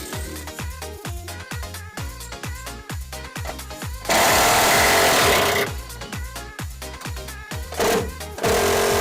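A power tool, likely an impact gun, undoes the rear damper bolts on a YellowSpeed coilover fitted to a Mk5 Golf GTI race car, giving a loud, steady rapid hammering with two harsher, noisier bursts midway.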